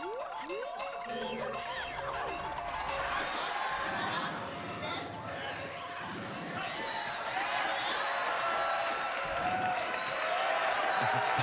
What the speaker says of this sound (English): How happy the crowd is that I beat Majora up.